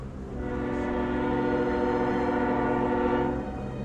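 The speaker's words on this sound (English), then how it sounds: "train is nearly at the depot." A train pulls into a depot sounding a long, steady horn that swells in, holds for a few seconds and fades, fairly loud over a low rumble.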